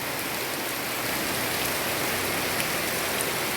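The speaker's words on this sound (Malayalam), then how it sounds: "ഇങ്ങനെ പെയ്യുന്ന കണ്ടോ" Heavy rain falling in a yard overgrown like forest, a dense, continuous hiss of drops on surfaces, steady and loud from start to end with no voices.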